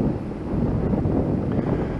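Strong wind roars steadily against the microphone, a dense low rumble that stays loud and unbroken throughout.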